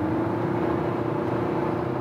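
Hyundai Santa Fe (2020) accelerating on a motorway, a steady broadband engine and road roar with a low hum holding constant throughout, heard from inside the car with no talk.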